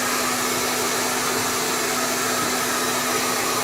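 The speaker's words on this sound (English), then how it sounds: "then blow drying it a little bit" A hair dryer blows steadily on a human hair wig, a constant close airy whoosh with a fixed motor hum, loud and unbroken with no talk.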